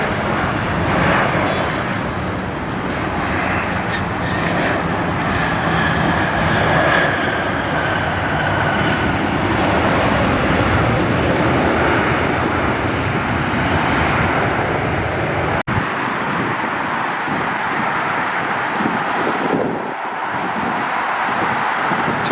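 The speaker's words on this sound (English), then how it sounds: "God, I love the sound of those engines. They've also got Pratt & Whitney geared turbofans." Airbus A220-300 with Pratt & Whitney geared turbofan engines taxiing at LAX, a loud sustained roar with a faint whine, near and steady, then thinning as it moves on.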